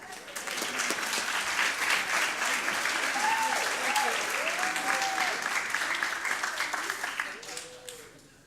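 Audience applause at a talk, sustained crowd clapping for several seconds with a few voices and cheers mixed in, tapering off at the end.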